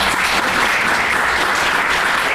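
Audience applauding after an audition during a rehearsal, a brief, dense burst of clapping heard close and loud.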